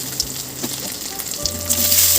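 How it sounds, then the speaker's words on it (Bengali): Potato pieces go one by one into hot oil tempered with dried red chili and panch phoron for mustard potatoes; a close sizzle swells as they are added, with light clinks and a soft hiss building toward the end. "এবার আমি আলুগুলো একে একে ভাজবার জন্য দিয়ে দিচ্ছি।"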